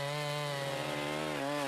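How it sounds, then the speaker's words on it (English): Gasoline-powered two-stroke 18-inch chainsaw engine running steadily at high revs, a loud continuous buzzing drone with a slight dip in pitch near the end. "An 18-inch chainsaw running at 3 horsepower will easily cut all the timber you want"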